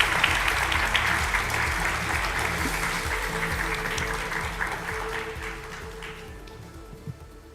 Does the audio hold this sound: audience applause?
yes